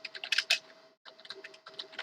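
Quick bursts of keystrokes on a computer keyboard, close and crisp, in two runs separated by a short pause, with no talk.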